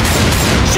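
Dense, continuous gunfire aimed at the Tank in Left 4 Dead 2, a loud unbroken burst of rapid shots filling the short moment with no pause.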